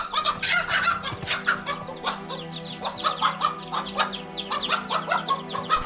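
Hens cluck and squawk agitatedly while attacking a cobra, the bursts loud, close and overlapping in quick irregular rhythm, with a steady low hum underneath.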